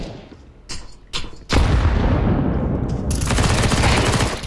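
Counter-Strike gunfire on the Office map: a few sharp single shots, then a dense, loud sustained burst of automatic fire and explosions filling the rest, close and harsh.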